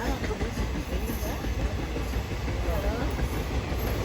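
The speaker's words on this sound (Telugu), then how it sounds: "మన ట్రైన్ కూడా పనిలోమని కదిలింది." Passenger train with blue ICF coaches beginning to pull away, a steady low rumble and faint rolling clatter filling the carriage throughout, with soft voices nearby.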